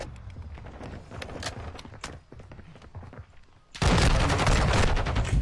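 Call of Duty shotgun gunfire in online multiplayer: rapid close shots and bursts over game ambience, quieter at first, then a sudden loud sustained barrage of dense firing in the final seconds.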